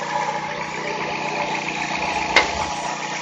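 A 2008 Dodge Avenger engine idles with a steady, moderately loud hum and one brief sharp knock partway through.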